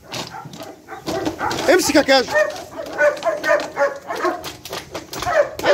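A dog named Kaju barks during grip training with a toy, with short sharp barks scattered under a man's steady, encouraging speech.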